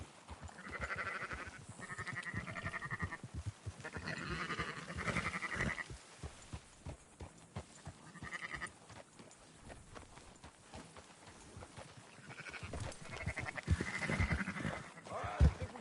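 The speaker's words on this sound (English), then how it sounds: "Marston, why don't you leave the sheep to me?" Sheep bleating repeatedly in Red Dead Redemption II, several animals calling over clip-clopping hooves and a busy outdoor game soundscape, moderately loud throughout.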